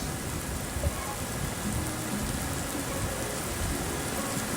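Heavy rain suddenly pours down during a bicycle trip, a dense, even roar of rainfall on surfaces that fills the whole stretch with no talking.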